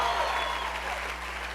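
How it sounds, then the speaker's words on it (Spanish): A congregation at the Fusion 2014 church congress breaks into loud applause, a dense, sustained wash of clapping over a low steady hum, with some voice mixed in. "alguien dele fuertes aplausos a Dios"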